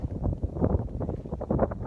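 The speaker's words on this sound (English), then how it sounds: "it's really windy here." Blustery wind thumps and rumbles against the microphone in uneven gusts in the Bighorn National Forest, loud and close, with no clear speech.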